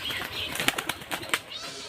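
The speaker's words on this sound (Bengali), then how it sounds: "এটা আমাদের সুখ পায়রা।" A fantail pigeon beats its wings close by in several quick, soft fluttering bursts over under two seconds, with no voices.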